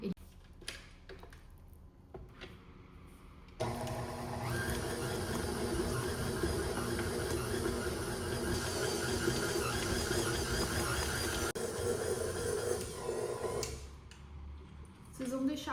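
A stand mixer kneads bread dough for Italian sourdough bread at low speed, a steady whirring motor hum that starts abruptly and runs for about eight seconds before stopping, with someone talking before and after.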